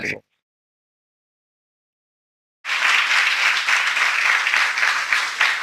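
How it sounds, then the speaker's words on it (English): After a brief sound and a stretch of silence, an audience at a spiritual talk by HG Radheshyam Prabhu breaks into steady, sustained applause for a team, lasting to the end. "Let us give an applause for this team."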